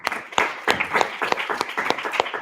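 An audience at a university course event claps for a judge, with a short round of moderately loud, fairly sparse applause and distinct individual claps.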